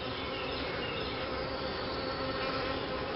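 Honey bees drone steadily in a continuous, dense buzz at a strong hive opened for inspection, close and fairly quiet with no talking.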